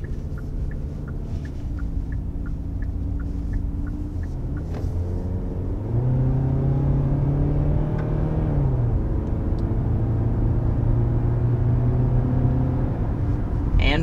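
A 2023 Kia Sportage with larger wheels cruising on the road, heard from inside the cabin as a steady, moderate low rumble of tyres and engine with rising and falling hum, no talking.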